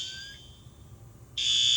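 A DMP fire command panel alarm, set off by a pull station, sounds a piercing electronic tone that is faint at first, then jumps to a loud, steady blare.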